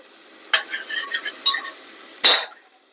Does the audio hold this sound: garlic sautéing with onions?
yes